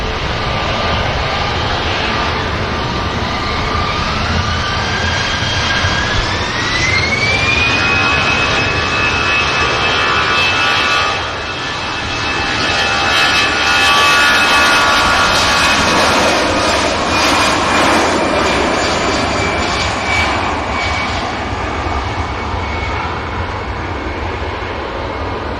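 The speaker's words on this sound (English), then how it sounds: "EasyJet's going to enter right in front of us as soon as this rotates." Jet aircraft engines roar loud and steady at the Manchester Airport runway, a sustained thrust with a rising whine as an airliner takes off close by, heard alone without talk.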